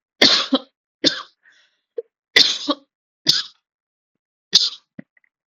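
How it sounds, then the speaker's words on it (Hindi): Several harsh coughs from one nearby person with a cold, in separate bursts across a few seconds, some followed by small throat sounds, with no talk. "बहुत ज्यादा ही मेरे को भी सर्दी खांसी हो रही है।"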